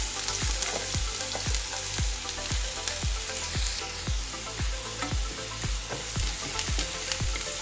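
Two chopped onions sizzling in hot oil for a quail egg roast, a steady crackling fry broken by regular scraping stirs of a spoon against the pan, close and fairly quiet.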